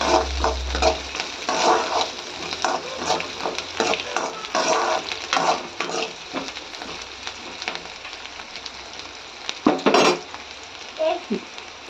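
Onions with three or four broken green chillies sautéing in a pan for lemon rice, a steady close sizzle with repeated scraping stir strokes and a few clinks of a spoon against the pan, no voices.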